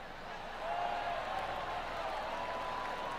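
Golf crowd applause in the PGA Tour 2K23 video game, a soft, distant, steady patter of clapping that swells slightly after a good shot and continues evenly.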